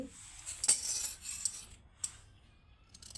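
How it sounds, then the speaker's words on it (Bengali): A tailor's scissors snip and rasp through dress cloth in a few short, faint cuts with small metallic clicks, close by and quiet, with no talk. "জামা কাটতেছে কাটিং মাস্টার"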